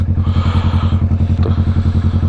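A Kawasaki Vulcan S 650 motorcycle engine thrums steadily while riding, its low pulsing beat close and even throughout, with wind hiss layered on top and no voices.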